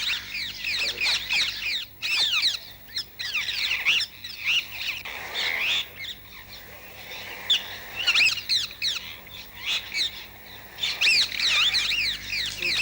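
Small birds chirp continuously in a tree, rapid high tweets in dense repeated bursts with brief pauses, close and clear, over a faint low hum and with no speech.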